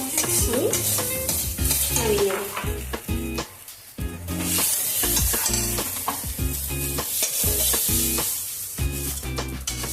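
Beetroot paste fries in a pan with a loud, close, continuous sizzle, broken by repeated scraping and stirring strokes and a brief lull midway.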